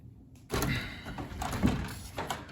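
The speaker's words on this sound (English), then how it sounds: "when the door closes" A shed door swings shut against simple weather stripping, giving one solid close with a brief rattle and thump that carries on for about two seconds. It sounds near and fairly quiet, with no talking.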